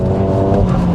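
A 400 bhp stage 2 Audi S3 pulls hard in third gear from just under 4,000 rpm, its engine droning loud and continuous as it climbs through the revs.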